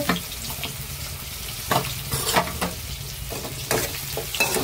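Tomato, ginger paste and garlic paste frying in a pan with browned onions for chicken kosha, a continuous close sizzle punctuated by repeated scraping stirs of a spatula, with no talking.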